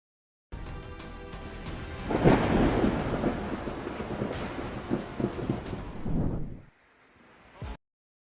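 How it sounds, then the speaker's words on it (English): Thunder from a lightning storm over a city, a loud deep rolling rumble that swells, crackles and trails off over several seconds with rain hiss beneath, then cuts to near silence before a short final burst. "Sky flashes white as lightning bursts through dark clouds above the city."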